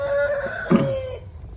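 A Tagalog chicken lets out a single close clucking call, a short throaty vocal with a rising tone, over quiet background noise.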